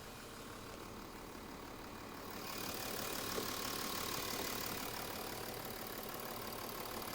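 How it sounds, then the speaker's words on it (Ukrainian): Steady low engine rumble of a 2011 Volkswagen Touareg 3.0 TDI diesel idling, constant and fairly quiet, growing slightly louder partway through with no voices. "послухаємо, як працює моторчик"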